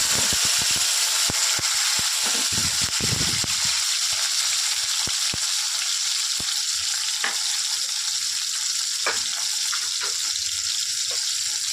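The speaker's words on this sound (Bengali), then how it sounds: "এরপর আমি দিয়ে দিচ্ছি টমেটো কুচিগুলো।" Chopped tomatoes dropped into hot oil with whole cumin and bay leaf, a loud, steady hiss of frying with a burst of bubbling early on and sharp spatula taps and stirs scattered throughout, no voices.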